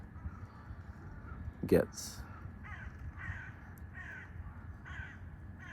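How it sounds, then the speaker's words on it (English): Crows caw in short repeated bursts from the background, several calls spaced across the stretch, mid-distance and fairly faint beneath a steady low rumble, with a louder sharp sound near the start and a brief spoken word. "these crows cawing in the back, cawing in the back"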